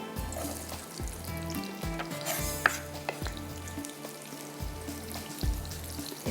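Onions frying in oil give a crackling sizzle with clatters of stirring, heard close over a low, rhythmically pulsing background tone.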